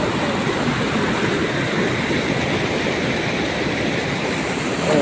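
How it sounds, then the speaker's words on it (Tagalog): Water tumbles over a drop in the river at Macaiban, Sta. Maria, Bulacan, a steady broadband roar that stays loud and close throughout without pause, with no voices over it. "ito lang yung ano, bagsakan ng tubig"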